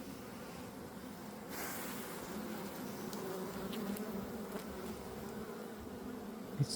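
Honey bees buzz steadily throughout a mid-spring beehive inspection, a continuous close drone with no talk over it.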